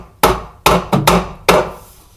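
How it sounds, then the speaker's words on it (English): Hammer blows drive nails to strap a pipe against a wooden floor joist during a kitchen remodel: five sharp, loud strikes in an irregular rhythm, close by, with no talking. "strap this pipe in place. Bring it up here and nail it to the side of this"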